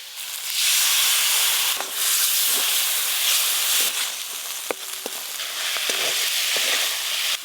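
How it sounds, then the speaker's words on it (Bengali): Spice paste, chopped tomato and a little water frying in a pan, giving a loud, hissing sizzle that swells and dips, broken by a few sharp clinks of a utensil. "একটু জল দিয়ে মশলাটা ভালো করে কষিয়ে নেব।"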